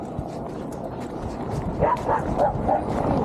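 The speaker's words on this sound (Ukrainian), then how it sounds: "О, барбоски." A few small dog yips and barks, moderately close, over steady outdoor background noise.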